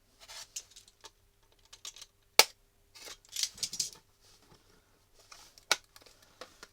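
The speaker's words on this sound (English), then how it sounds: "let's get a knife and cut this open." A knife cutting open the plastic packaging of a cheap Aldi drill set, heard as sparse, close clicks, crinkles and scratches with a couple of sharp snaps as the plastic gives way, amid near silence.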